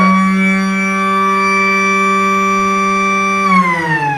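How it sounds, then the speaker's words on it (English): A loud, sustained siren at a reserves-grade Australian rules football grand final in Perth, holding one harmonic tone before sliding downward as it winds down. "a couple of points on that siren. It's pretty annoying"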